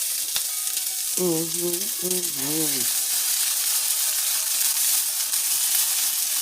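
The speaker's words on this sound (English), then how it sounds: "Fry those onions up" Onions frying in melted butter in a pan give a continuous close hiss and sizzle throughout, with a brief voiced sound partway through.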